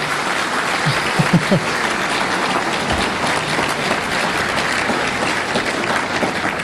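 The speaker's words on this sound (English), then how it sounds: "Big round of applause for Ben Shapiro." Audience applause welcoming a speaker at a C-SPAN-covered event in Orange County, a dense, loud, sustained clapping from a large crowd lasting the whole stretch.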